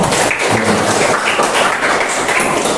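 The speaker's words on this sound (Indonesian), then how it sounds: "Tetap semangat, tepuk tangan." A class of elementary school pupils claps at the end of a lesson, with a dense, steady patter of many hands filling the room at close range and no clear talk over it.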